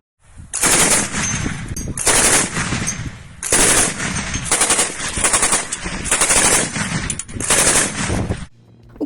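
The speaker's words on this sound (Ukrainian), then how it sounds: "Українські військові їдуть польовими дорогами на багі та випробовують, як із них стріляти." Loud bursts of automatic gunfire rattling close by from a moving buggy on field roads, about six rapid volleys separated by brief gaps, with no talking.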